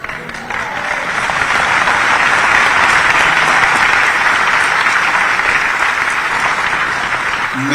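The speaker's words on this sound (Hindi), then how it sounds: "ये ताली किसके लिए बजाई?" An audience at an awards ceremony claps loudly and steadily for several seconds, a dense wall of applause with faint talk underneath.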